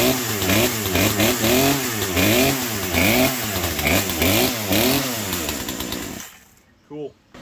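A chainsaw engine fires and revs repeatedly in rising and falling surges, close and loud, before cutting out and leaving a brief burst near the end.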